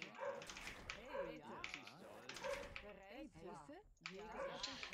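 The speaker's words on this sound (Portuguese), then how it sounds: "e ela não para de latir, cara, incansavelmente." A dog in a room barks and yips again and again, faint and somewhat distant, under someone talking.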